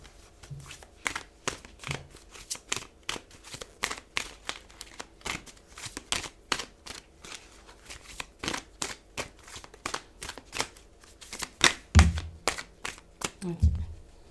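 Tarot cards being handled and picked during a reading, giving a quiet run of dense crisp slides, flicks and taps close by, with no talking.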